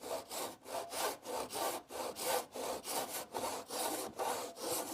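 A handsaw cuts through very hard wood in long, regular back-and-forth strokes, about a dozen rasping passes, close and steady with no talk.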